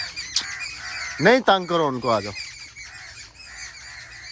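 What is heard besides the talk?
birds chirping and squawking in the background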